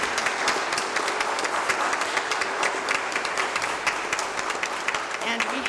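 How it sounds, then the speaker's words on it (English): A Lutheran church congregation in Bucyrus, Ohio, claps steadily for nearly six seconds, a dense even wash of applause filling the sanctuary with no break. "That's an applause."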